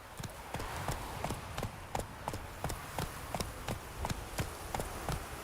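Horse galloping in the video game The Witcher 3 Wild Hunt: steady, rhythmic hoofbeats clopping evenly throughout, fairly close, with faint ambient game sound beneath.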